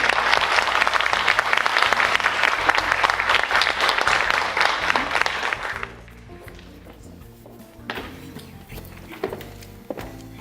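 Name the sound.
audience applause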